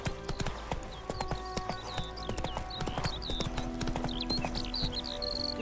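The horse Roach clip-clops along in The Witcher 3: Wild Hunt, a close, steady beat of hooves on hard ground with sharp knocks and jingling tack, sustained throughout over a low ambient game backdrop.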